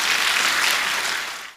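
A church lecture audience bursts into dense, loud applause that fills the clip steadily, then cuts off abruptly near the end before briefly resuming.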